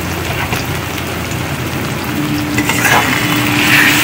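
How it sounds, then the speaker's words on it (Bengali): Spiced tomato masala with chilli, coriander and cumin powders sizzles and fries in a pan while being stirred, a dense, steady crackle with scraping strokes that grows slightly louder toward the end, no talking. "এবার এটাকে খুব ভালো করে কষাতে হবে।"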